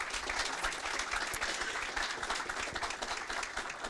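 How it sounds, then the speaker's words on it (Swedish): An audience at a Swedish release event for school digital learning accounts applauds the panel, with steady, dense clapping throughout and no speech over it. "Tack till panelen först, en applåd."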